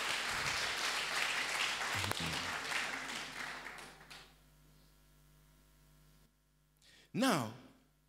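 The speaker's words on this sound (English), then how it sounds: "Can we clap for Jesus?" A church congregation claps during a sermon, with dense, lively clapping for about four seconds before it fades to near quiet, followed by a brief voice at the end.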